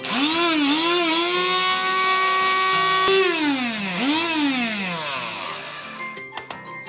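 An electric grinder pulverises coriander seeds into fine powder with a loud, close, high whirring whine that rises and dips in pitch, then spins down and stops, leaving a few light clicks.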